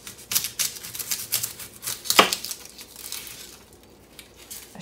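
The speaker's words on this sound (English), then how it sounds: "Dice my onion here really quick." Knife dicing an onion on a chopping mat, a quick run of light irregular taps and crunchy cuts, close and fairly quiet, with no voices.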